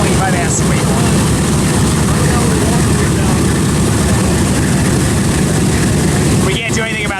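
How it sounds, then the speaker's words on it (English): A propeller airplane roars in loudly and steadily at an airfield where a B-25 bomber waits to taxi, a dense engine drone filling the whole stretch, while spectators talk over it. "There's another plane inbound that the B-25 has to wait for."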